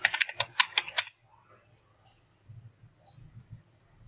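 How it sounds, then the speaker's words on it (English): Quick bursts of computer keyboard typing, about eight close key clicks in the first second, then a quiet pause and faint soft tapping. "And let me type running."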